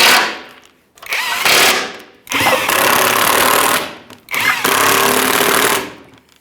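A power tool whirs in three sustained bursts, loud and close, snugging up bolts on the center link of a 1996-2006 Chevrolet Silverado 1500 5.3L V8, each run ending with a short pause.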